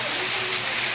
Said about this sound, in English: Meanwhile, it's still raining.